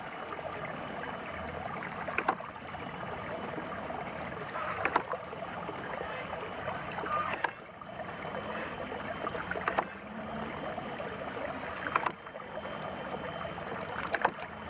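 Steady water rushing and gurgling from a non-electric three-thrust water pump, a continuous flowing wash with occasional faint clicks, no voices.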